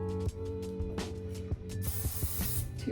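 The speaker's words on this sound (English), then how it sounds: "To make sure that these ponytails are super clean, I'm gonna hairspray it in sections." Hairspray misted onto sections of a ponytail for a sleek half-up half-down style: a broad airy hiss rises and holds near the end, over a steady background hum and soft handling sounds.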